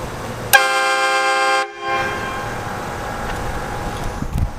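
A truck-mounted train horn sounds one loud, blaring, sustained blast for about a second, then cuts off, leaving low rumbling traffic noise.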